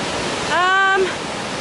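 Fast-flowing main channel of a mountain river on the Pacific Crest Trail, a loud, continuous broadband rush of water, with a short whistled or sung tone rising briefly over it.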